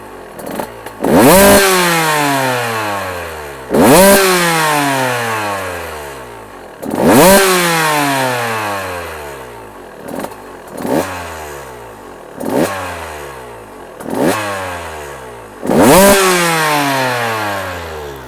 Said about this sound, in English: I know everybody likes to hear a 125 rip, so I'm just going to rev this thing up for a minute.